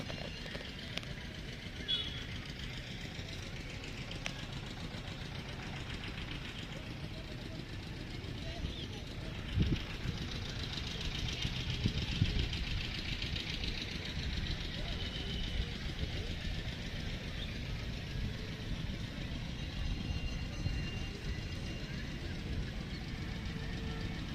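A scooter engine runs in a steady, low idle-like drone throughout, fairly quiet, with people talking over it.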